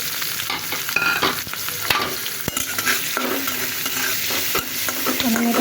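Onion and green chili fry in hot oil in a pan for a pangas fish curry, giving a loud, continuous sizzle broken by sharp scraping stirs, with no voices.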